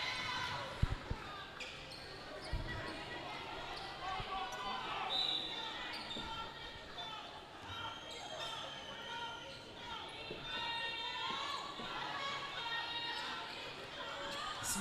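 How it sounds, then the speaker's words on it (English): Fans in the stands at a FIBA women's Melanesian basketball game between the Solomon Islands and Fiji keep up a steady crowd roar of chanting and cheering. A ball bounces on the court now and then, and a commentator talks over the noise. "You can hear the fans chanting, cheering on their teams."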